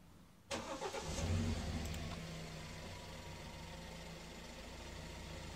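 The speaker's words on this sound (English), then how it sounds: "start the engine again" A BMW engine with an injector fault cranks and fires up after a brief quiet moment, surges slightly, then settles into a steady, close idle that runs on alone.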